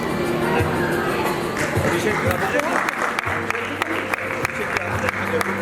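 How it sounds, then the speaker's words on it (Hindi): Audience applause fills the hall at a Lions Club charter night celebration, steady dense clapping from a crowd with some voices and cheers mixed in throughout. "A big round of applause from all the people over here."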